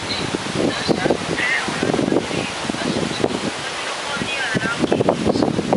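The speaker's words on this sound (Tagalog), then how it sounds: "Grabe kakusog ang hangin." Strong typhoon winds during Typhoon Agaton roar and gust into the microphone, a rushing, surf-like blast rising and falling throughout, with voices heard under it.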